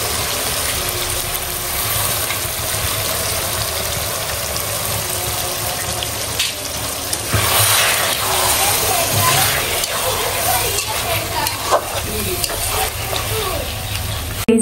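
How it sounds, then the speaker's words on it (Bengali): Meat frying with spices in a pot for biryani, giving a steady broadband sizzle with stirring noises throughout and a constant background hum. The sound stays close and fairly loud. "মশলা কষানো হয়ে গেছে, এখন হচ্ছে মাংসগুলো দিয়ে দেওয়া হচ্ছে। এই যে মাংস দিয়ে কষাবো।"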